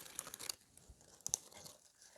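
Holly is trimmed for a Christmas centrepiece: faint, close crinkling and snipping rustles come in a few short bursts with quiet gaps between.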